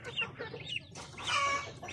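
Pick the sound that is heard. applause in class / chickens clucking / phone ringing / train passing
chickens clucking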